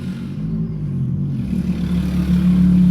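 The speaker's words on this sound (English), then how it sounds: "Dying car." A dying car's engine labours and revs with a low, rough drone that swells gradually louder, clattering faintly underneath, heard close with no voices.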